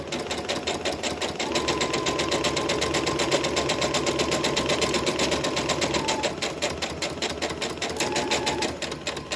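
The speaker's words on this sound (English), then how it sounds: "I'm going to stitch forward a couple of stitches, then go back up to that line, and then come all the way down to the end." A sewing machine stitches a seam on a fabric gift bag, its rapid even needle clatter running continuously up close with a brief slowing near the end.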